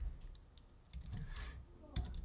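Computer keyboard typing in quiet, irregular bursts of clicks and keystrokes, close and fairly soft, with a little background noise and no talk.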